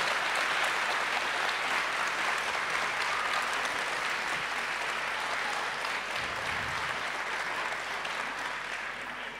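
An audience applauds guest Kim Stanley Robinson at a public talk, a dense, steady wash of clapping that stays loud throughout and eases slightly toward the end, with no voices over it.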